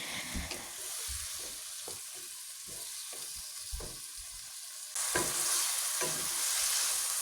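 Potatoes stirred and fried with spices in a pan for an egg and potato curry, a steady hiss broken by repeated scraping, knocking spatula strokes, growing louder near the end.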